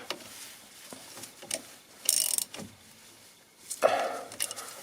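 A wrench tightening the brake bleed nipple on a Peugeot 307, heard up close as a few short ratcheting clicks and metallic scrapes in quick, uneven bursts with no talking.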